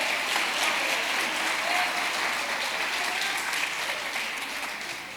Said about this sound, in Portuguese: Aplauda ele, então, aplauda ele, aplauda ele.